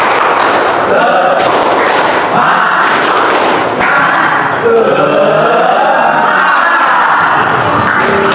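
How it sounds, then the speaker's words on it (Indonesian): A school class does the rhythmic 'tepuk semangat' clapping chant as an ice-breaker, with many children's voices shouting and chanting together over claps, loud and continuous throughout. "Coba kita sekarang tepuk semangat."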